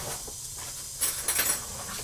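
Diced onion and minced garlic sizzle in a hot pan. A steady hiss fills the background, with a louder crackling burst in the middle before it settles back.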